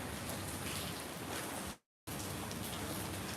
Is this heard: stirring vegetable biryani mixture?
no